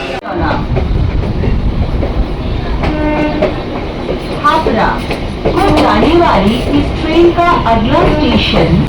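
A Habra local train in Kolkata rumbles and clatters along the tracks toward Dum Dum Junction, loud and close, with rhythmic clacking and voices talking over the running noise.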